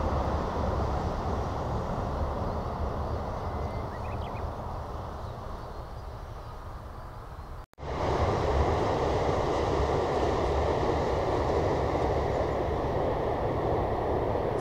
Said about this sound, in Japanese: やっと電車が来ましたね。